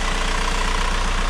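A Volkswagen Golf 4 1.9 TDI diesel idles to warm up, a loud, steady low rumble with an even mechanical clatter and no voices.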